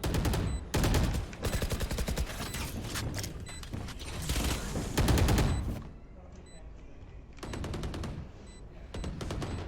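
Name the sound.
gunfire in the video game Valorant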